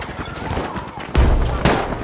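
Gunfire in the video game Battlefield V, with a burst of shots and two sharp louder reports over a busy combat background, briefly.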